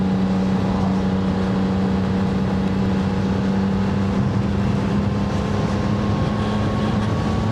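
CF Moto 675 SR-R motorcycle climbing a hill in fourth gear at a steady speed, a continuous loud engine drone with strong wind rush, held evenly throughout with no talk.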